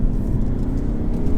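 A 2016 Audi A5 2.0 TDI accelerating hard through a quick paddle-shift change into second gear, giving a steady, heavy low-pitched diesel drone from inside the cabin with no voices.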